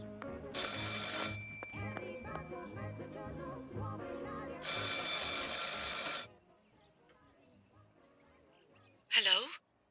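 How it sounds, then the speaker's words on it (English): A telephone rings in the horror video game Martha Is Dead, giving two long bursts of shrill electronic ringing over a low, droning game soundtrack, followed by a brief sharp chirp near the end. "I should pick up the phone but remain silent."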